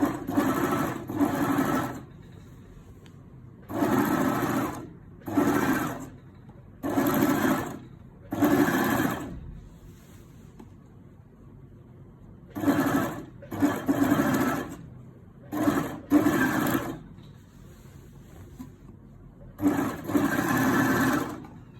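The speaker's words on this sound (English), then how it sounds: "So now we're just overlocking to get this rough edge away." Repeated bursts of a fast, buzzing overlocker stitching a rough fabric edge, each run lasting a second or two with short pauses between, close and fairly loud.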